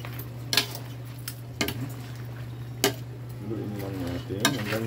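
Shrimp cooking in a pan, with a utensil scraping and clinking against the metal in a few sharp, spaced strikes over a steady hum and faint sizzle, with a voice talking briefly near the end.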